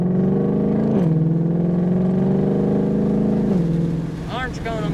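A Ford Mustang Shelby GT500 pulls hard on a race track, its engine drone rising steadily and loud, easing briefly with a gear change partway through, with a voice speaking over it near the end.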